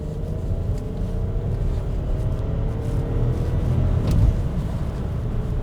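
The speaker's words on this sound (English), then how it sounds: "Does it sound 3-cylinder-ish? Why, yes, it does." An Audi A1 citycarver's three-cylinder engine, 116 horsepower with a six-speed manual, runs in a steady low rumble, close and continuous with a slight swell near the end and no talk.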